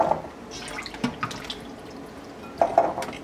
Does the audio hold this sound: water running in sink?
yes